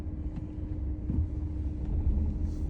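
A 2019 Renault Captur Intense petrol car with 80,000 km on a road test, heard from inside the cabin as a steady low engine and road rumble at moderate level, with no talking.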